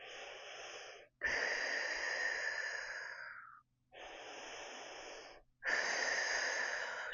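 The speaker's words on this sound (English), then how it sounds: "So we'll inhale through the nose. Feeling the diaphragm. Filling up the belly on the inhale." Four long, deep breaths drawn through the nose, an audible airy rush repeated in a slow inhale–exhale rhythm with short pauses between, close and fairly loud, no talking.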